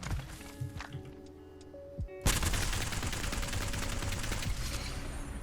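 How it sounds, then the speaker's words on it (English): L-Star energy gun firing in Apex Legends, a dense continuous stream of rapid shots that starts abruptly midway after quieter game noise and keeps going to the end. "I also have an L-Star here, one of my favorite weapons to use on Rampart"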